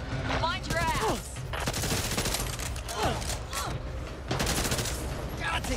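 Sustained automatic gunfire in the co-op zombie shooter Back 4 Blood during a 4 vs 4 PvP match, dense overlapping bursts with game effects, loud and continuous throughout.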